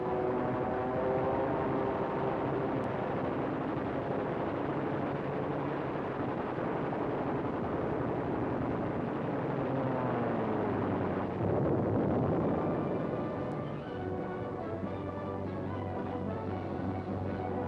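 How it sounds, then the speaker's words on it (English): German WWII aircraft strafing attack in archival film, a continuous roaring drone of aircraft engines with a rising rumble of gunfire and explosions toward the end, rough and muffled in old recording quality. "Now it was for the Germans to learn the terrors of strafing."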